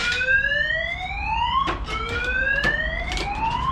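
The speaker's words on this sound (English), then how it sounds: "basically the alarm's going off" A Starline car alarm wails with rising tones that sweep upward and repeat steadily, loud and close, with no voices over it.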